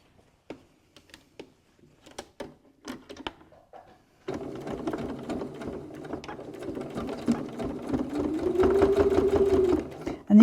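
A few faint clicks and handling noises, then a sewing machine runs steadily up close, stitching the seam of a cosmetic bag in a continuous rapid whirring rattle that builds slightly toward the end.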